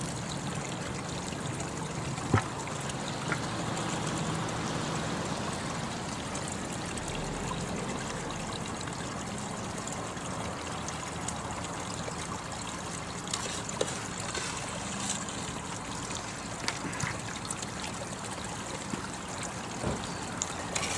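A Keene Super black sand concentrator runs with water, giving a steady, continuous trickling and rushing flow with small splashes, moderately close and unbroken by talk.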